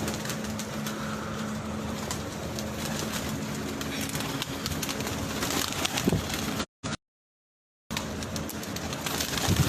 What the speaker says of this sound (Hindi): ये जी शर्मीला कबूतर है जी, 7 बजे तक जो है ना बैठा है कबूतर